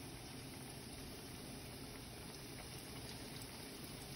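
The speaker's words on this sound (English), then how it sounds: "Well, those are frying." Oysters fry in canola oil at about 350 degrees, giving a dense, steady crackling sizzle that stays constant and close the whole time, with no talking over it.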